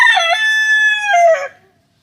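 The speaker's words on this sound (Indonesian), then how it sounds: "Bunyi ayam jantan berkokok." A rooster crows once, loud and close, a long cock-a-doodle-doo lasting about a second and a half before quiet.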